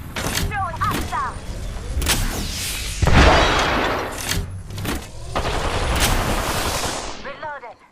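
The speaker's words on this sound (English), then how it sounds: "Thermite grenade out." A thermite grenade goes off in the video game Apex Legends amid rapid gunfire, sharp repeated shots and bursts with a heavier blast near the middle, loud and dense throughout.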